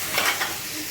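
Spices fry in a pan with a continuous bright sizzle and a couple of brief stirring scrapes, close and fairly loud, with no talking.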